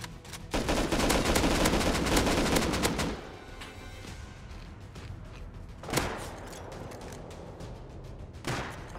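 Automatic gunfire from a PvP battle in the video game Rust, a loud sustained burst of rapid shots up front, then quieter scattered fire with two sharp single cracks standing out later.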